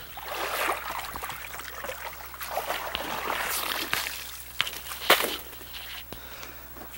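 A fish net sloshes and stirs through the water of an outdoor aquaponic pool while leaf litter is scooped out, irregular splashes and swirls rising and falling, with a couple of sharper splashes near the end.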